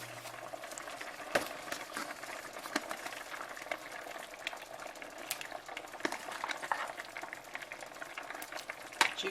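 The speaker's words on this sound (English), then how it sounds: "Okay, so this has to come to a boil now." Chili-beef vegetable soup with ground beef and kidney beans comes to a boil in a pot, with a close, steady bubbling hiss and scattered soft pops throughout and no talking.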